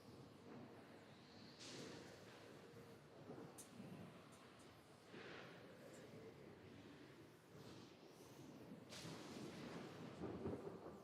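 A thunderstorm rumbles with repeated thunder peals and crackling bursts over steady rain and wind, fairly faint and distant throughout.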